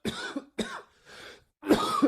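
Several hoarse coughs close by, two quick bursts, a short pause with a softer rasp, then a heavier fit of coughing.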